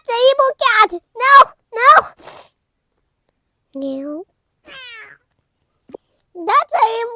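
A cartoon cat in the Toca Life World video game gives a quick run of short, high meows, followed by a couple of fainter meows, with someone talking in between.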